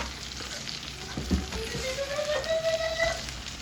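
Garlic frying with vegetables in a pan, a soft close sizzle with a few stirring scrapes over a brief stretch.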